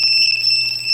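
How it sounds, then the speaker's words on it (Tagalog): A Honda Click V3 motorcycle's anti-theft alarm sounds a steady, loud electronic tone, continuous and unbroken for the whole second with no voices over it. "Ayan, ginamitan, nag-alarm na rito."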